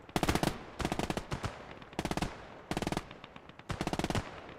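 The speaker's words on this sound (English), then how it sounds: "A sniper of some kind" Rapid bursts of gunfire in a WARNO / Gates of Hell multiplayer battle, rattling in three or four sharp volleys with short pauses between, loud and close with no talk over it.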